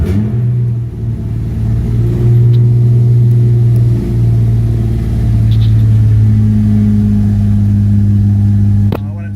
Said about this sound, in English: Alright, we'll start it up now.